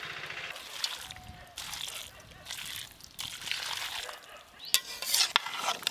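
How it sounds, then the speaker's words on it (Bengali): A spoon stirs shukto vegetables in a pan with ghee and thick, reduced broth, giving wet sloshing and scraping in uneven bursts, with a few sharp clinks near the end. "সব কিছু একটু ভালো করে মিশিয়ে নেব দিদি"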